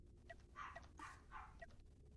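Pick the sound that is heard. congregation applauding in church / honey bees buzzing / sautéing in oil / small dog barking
small dog barking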